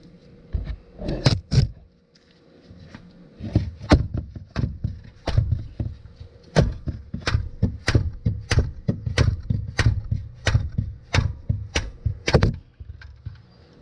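Repeated sharp hammer blows strike in a steady rhythm during an oil change on a 1984 Bertone X1/9, about two dozen knocks, moderately loud, with a short pause early on before the pounding resumes.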